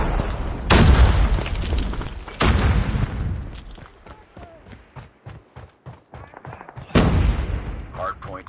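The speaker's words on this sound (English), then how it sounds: "napalm has been deployed" Napalm airstrike blasts in Call of Duty Mobile: heavy booming explosions at intervals, separated by a stretch of rapid gunfire bursts, with game announcer voice lines heard over the action.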